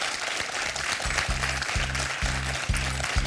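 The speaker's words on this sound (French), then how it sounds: "Chaleureusement applaudi par Yasmina et Hélène" Two contestants on a television quiz show clap warmly, a light, scattered patter layered over pulsing, rhythmic low tones from the studio.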